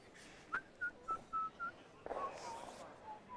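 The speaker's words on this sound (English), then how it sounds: "We're getting some whistling." A person whistles at a curling event, a string of short, clear tonal notes followed by a sustained warble, with crowd and arena murmur running underneath.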